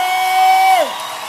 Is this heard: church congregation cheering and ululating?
yes